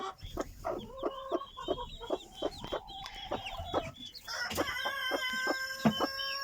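Bantam hens cluck in short repeated bursts nearby, with chicks and overlapping calls and a crowing-like call near the end, rising in density as it goes.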